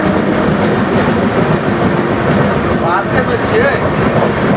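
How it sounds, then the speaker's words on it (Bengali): Train 12508 from Silchar passing close by as a continuous loud rumble with rail clatter, heard from a stationary passenger train near Santragachi on a Puri to Shalimar journey; a faint squeal rises briefly partway through. "আর এটা হচ্ছে বারো ফাইভ জিরো এইট শিলচর থেকে আসছে"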